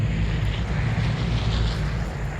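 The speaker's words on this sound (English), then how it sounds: "And the plane flies overhead." A plane passes overhead in the game Vigor, a steady broadband engine drone with a low rumble that holds evenly throughout, no voices over it.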